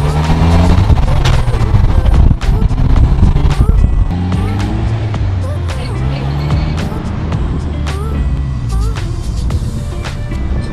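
A car driving along a scenic route, with a steady, loud engine and road rumble running throughout, overlaid by scattered clicks and knocks from the cabin.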